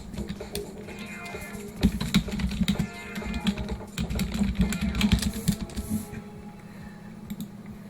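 Fingers type on a computer keyboard during a Wartune online game match, producing rapid, irregular bursts of light plastic key clicks. The clicks are fairly close and continue steadily over a low background hum.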